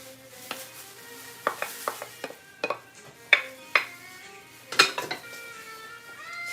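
A spoon clinks against a bowl while hard-boiled eggs are stirred into a salad: a dozen or so irregular, ringing taps and scrapes, close and fairly quiet, with no talk.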